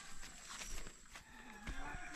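A water buffalo (carabao) gives a low, drawn-out moo-like call in rural mountain surroundings, faint and distant over soft background rustle, with no talking.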